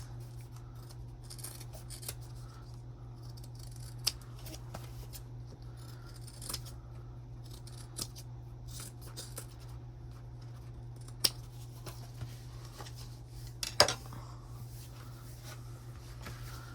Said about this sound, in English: Then we'll trim off the excess, just like this.